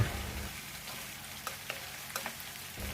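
A cornstarch-and-water slurry is stirred into a tofu stir-fry in a wok, giving a soft bubbling sizzle and a few light scrapes and taps of the utensil, fairly faint and without speech.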